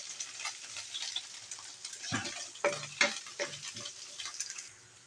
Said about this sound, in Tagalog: iluluto natin ang ating ampalaya. Stir fry na natin siya.